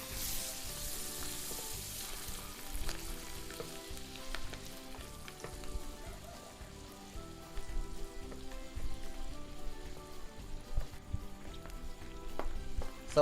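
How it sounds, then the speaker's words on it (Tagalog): Mushrooms fry in butter in a pan over high heat, giving a continuous crackling sizzle with soft stirring scrapes, steady and moderately quiet throughout. "Add the mushroom until mushroom are soft or cook"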